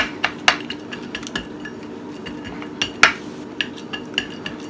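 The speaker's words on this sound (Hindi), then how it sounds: "अब इसको हमने थोड़ा सा टैप कर लेना है। मैंने इसके ऊपर घी लगा लिया कोई कटोरी पे" A ghee-greased metal bowl taps poppy seeds down onto sohan halwa, making a scattered series of sharp clinks and knocks, some louder and some softer, against a low steady background hum.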